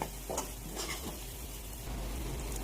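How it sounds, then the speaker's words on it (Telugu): Onion masala paste fries in oil in a pan for an Andhra-style curry, a steady dense sizzle with faint crackles, close and continuous with no talking. "ఇదిగోండి మసాలా పేస్ట్ బాగా వేగిపోయింది ఇలా వేగి ఆయిల్ పైకి తేలాలి"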